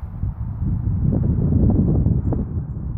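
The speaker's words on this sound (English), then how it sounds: "I feel the wind blowing now, so that's probably going to have an effect on the sound quality" Steady wind blowing outdoors buffets the microphone, a continuous low rumbling roar that stays loud and fairly even throughout, with no talking.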